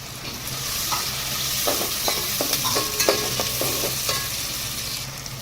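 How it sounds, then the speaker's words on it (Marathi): Onions fry in a pan for a besan dish, giving a steady sizzle with scraping stir strokes and clinks throughout, close and alone with no talk. "कांदा मस्तपैकी आता हा फ्राय करून घ्यायचा एकदम."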